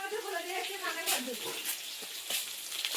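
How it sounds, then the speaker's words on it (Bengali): Katla fish pieces coated with black pepper frying in oil, a steady broadband sizzle with brief louder crackling bursts, heard alone at moderate level. "এই যে এদিকে মাছ ভাজা হচ্ছে, কাতলা মাছ।"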